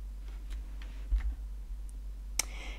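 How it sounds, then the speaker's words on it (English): A computer mouse gives a few light, crisp clicks spread out over a few seconds, with a sharper click near the end against quiet room tone. "Let's go back to Ida's profile by clicking the back button."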